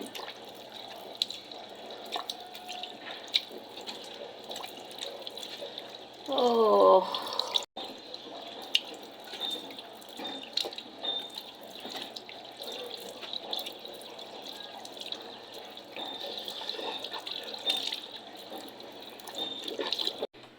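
Tap water runs into a sink while someone rinses off face wash, with a brief louder splash of hands scooping water partway through and a steady faint trickle throughout, no talking.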